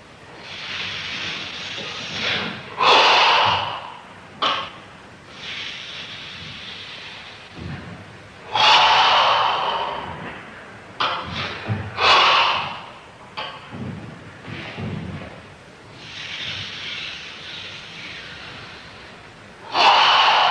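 Forceful controlled breathing during a Sanchin karate kata, a series of loud hissing exhalations and sharp snorting breaths spaced every few seconds, close and alone.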